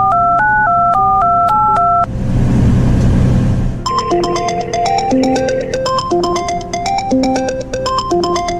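A phone number is dialed in clear touch-tone beeps, a quick run of distinct keypad tones, followed after a brief whoosh of passing traffic by more rapid dialing tones.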